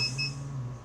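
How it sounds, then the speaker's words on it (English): An ultrasonic cleaner gives two short, high electronic beeps in quick succession to signal it has finished, fairly faint over a low steady hum. "Beep, beep. Ultrasonic cleaner's done."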